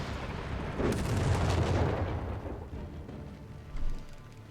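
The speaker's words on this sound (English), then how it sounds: "Also got two artillery barrage here for Qhunter." An artillery barrage in the real-time strategy game Company of Heroes 3 rolls out as a string of deep, booming blasts and rumbling impacts, moderately loud and overlapping, with a final thud near the end.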